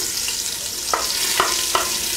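Chopped onions hit a pan of hot butter and olive oil, giving a steady close sizzle with three brief sharper bursts of spatter and stirring over the constant frying hiss.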